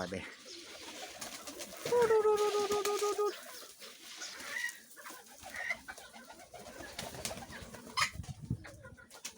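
Pigeons in a backyard flock coo and murmur, with one clear rolling call standing out early and softer bird sounds scattered among faint speech and outdoor noise.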